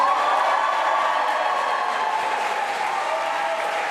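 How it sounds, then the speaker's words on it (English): Sustained applause from a crowd at a 2024 UK general election count after the Blyth and Ashington result is declared, dense and steady throughout without pause. "Huge round of applause for Ian Lavery there, keeping that seat"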